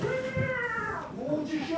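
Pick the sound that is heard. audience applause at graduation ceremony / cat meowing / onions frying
cat meowing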